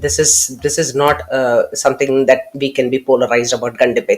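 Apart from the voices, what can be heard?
No distinct noise like a dog, phone or traffic.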